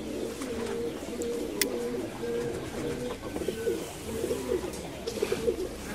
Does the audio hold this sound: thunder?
no